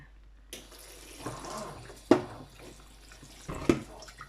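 Mushrooms being washed in water in a sink: soft splashing and sloshing with a few sharper splashes, close and fairly quiet, with no talk.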